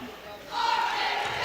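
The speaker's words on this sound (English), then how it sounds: "Got the crowd all riled up." A high school prep basketball district-tournament crowd getting riled up after a technical foul, a broad roar of shouting that surges and holds loud, with talk over it.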